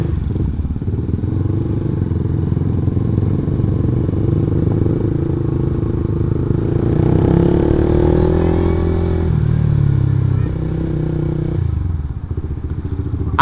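A motorcycle rumbles past near a university campus, its low engine drone swelling and climbing in pitch midway before easing off, heard close and steady with no speech.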